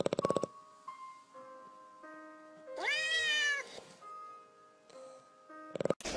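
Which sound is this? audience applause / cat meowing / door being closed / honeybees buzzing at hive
cat meowing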